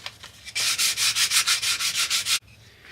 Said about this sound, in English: Give this a quick sanding.